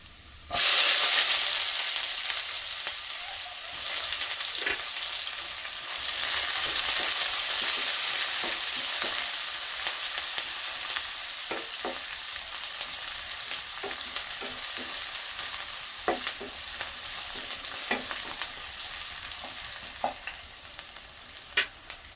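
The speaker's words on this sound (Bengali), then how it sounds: "নেড়ে দিচ্ছি। এখন দিয়ে দিব পেঁয়াজ কুচি," Chopped onion frying in hot oil with garlic in a pan, giving a strong continuous sizzle and hiss punctuated by repeated stirring scrapes, close and loud, no voices.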